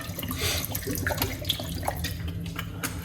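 Produce is rinsed under a running kitchen tap, with a steady rush of water splashing into the sink and no voices.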